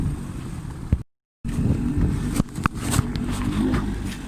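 A small Leisure 17 sailboat at sea with its engine running in a light breeze, giving a steady low drone mixed with wind buffeting on the microphone and a few brief knocks, broken by one short dropout.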